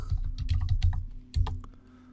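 A computer keyboard on an Ubuntu Linux machine is used to type a password: a quick, close run of clicky keystrokes in short bursts, with a brief pause before a final few taps.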